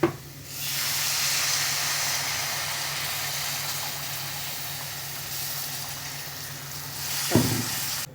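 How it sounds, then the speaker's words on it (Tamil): A continuous loud sizzling hiss from a pan of sardine fish curry with tamarind bubbling on the stove, steady for several seconds, with a brief clatter near the end. "நல்லா கொதிக்கட்டும், ஒரு தட்டு போட்டு மூடிக்கலாம்."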